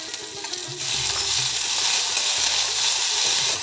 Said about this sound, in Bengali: আদা বাটা দিয়ে নেড়ে দিচ্ছি